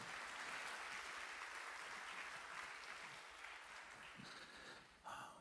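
A church youth audience applauds a lecturer after a job-seeking lecture, a dense continuous patter of many hands that fades slightly, then a brief voice or sound cuts in at the end.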